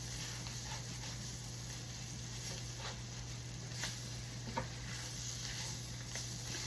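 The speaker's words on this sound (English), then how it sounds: "I'm going to stir that around. And all these vegetables." Vegetables sizzle quietly in a pan under a steady low frying hiss, with faint scattered taps and scrapes as they are stirred around.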